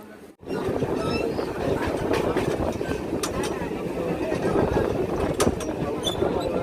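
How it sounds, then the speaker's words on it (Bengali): A passenger train rolls along the rails with a steady, loud rumble and rattling carriages, heard from inside a coach. "আবার আমরা ট্রেনে উঠে আসলাম।"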